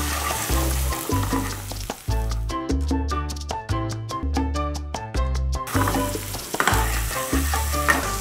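Garlic sizzles loudly in hot oil in a pan, a steady crackling fry with stirring. Musical background plays throughout.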